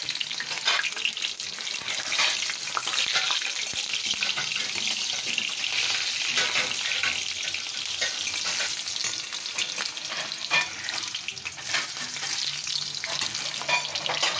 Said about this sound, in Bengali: মিডিয়াম আছে আমি ভেজে নিচ্ছি